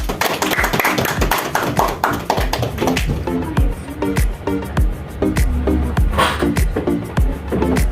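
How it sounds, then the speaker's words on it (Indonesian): Applause from a classroom of students clapping for a classmate, a dense run of hand claps and taps filling the whole stretch, close and steady with some uneven thumps. "kasih aplaus buat Mbak Mita"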